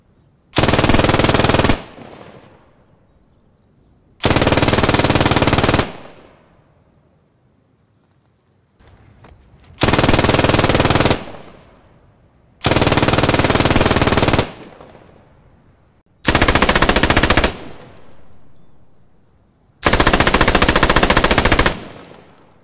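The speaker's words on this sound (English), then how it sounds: "As you saw, hip-firing these machine guns when crouched or prone is pretty much Rambo" German machine gun fire from the WWII video game Post Scriptum, late-war MG class: six loud, sustained full-auto bursts of about two seconds each, separated by short pauses with fading echo.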